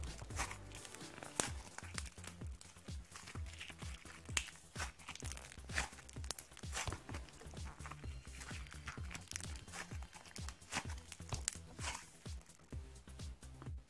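Crunchy slime worked between the fingers produces a dense, continuous run of close crackling, popping and crinkling bursts at a brisk uneven pace for about fourteen seconds, with no voices.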